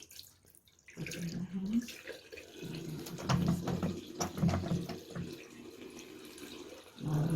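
Water running from a tap into a sink for handwashing before a glucose test, a steady close splashing stream with a brief pause, while a person speaks over it.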